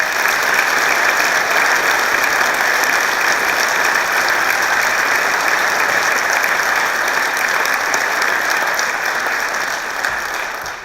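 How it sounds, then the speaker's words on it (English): An audience at a leadership award event breaks into sustained, loud applause, a dense, even roar of clapping that holds for about ten seconds before easing off slightly. "Let's give them one more round of applause."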